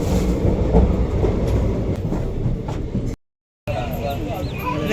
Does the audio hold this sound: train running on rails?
yes